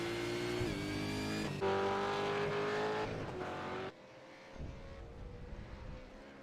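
Race cars at Bathurst's Mount Panorama circuit in an endurance cup round roar past with high-pitched engine whine, one car passing close and loud, then the sound dropping away to a fainter, more distant engine drone.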